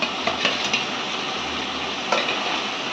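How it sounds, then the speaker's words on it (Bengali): Rohu fish pieces frying and being stirred in a pan: a steady broadband sizzle throughout, with a few sharp spatula scrapes and clinks against the pan, close and moderately loud, no talking. "এখন আমি রুই মাছ দিয়ে দিচ্ছি।"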